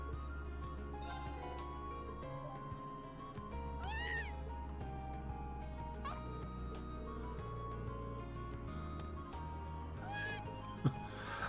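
In the video game Trails of Cold Steel, a cat gives several short, high meows spread through the scene over game music and background effects, with one sharper cry near the end.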